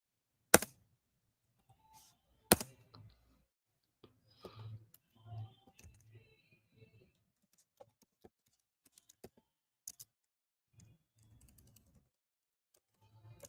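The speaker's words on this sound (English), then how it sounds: "So I'm typing it out." A computer keyboard being typed on in a quiet room, sparse light key clicks in short irregular bursts, with a couple of sharp louder knocks and faint low murmurs between.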